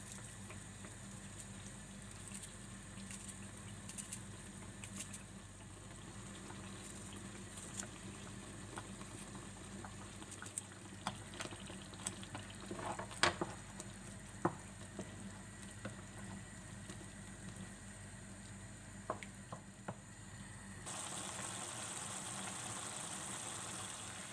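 Tomato sauce with garlic simmering in a pot while being cooked down for ajvar, giving a steady bubbling hiss with scattered soft pops and crackles throughout, no talking.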